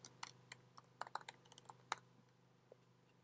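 Someone types on a computer keyboard while coding a Xamarin.iOS app, a quiet, close run of uneven clicks and keystrokes that thins out toward the end, with no speech.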